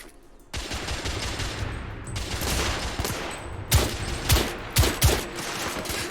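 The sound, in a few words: rifle gunfire in the video game The Order: 1886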